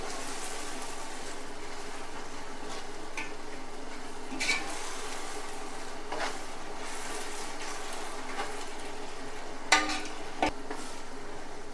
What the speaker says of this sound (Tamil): தயிரை சேர்த்து இது எல்லாத்தையும் ஃபுல்லாக நல்லா மிக்ஸ் பண்ணிக்கிறோம்.